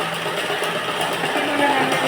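An electric sewing machine runs a steady double line of stitching along the edge of a blouse, giving a continuous close mechanical whir with faint rhythmic ticking while someone talks over it.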